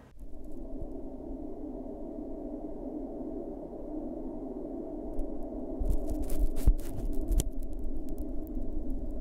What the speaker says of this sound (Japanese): 飛行機の中の機内音を流しながら